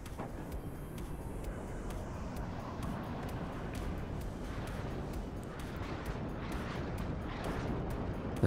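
Grad rocket artillery in a Defcon 2 battle game fires with a dense, continuous rumbling roar and crackle that holds steady and loud throughout, with a brief swell near the end.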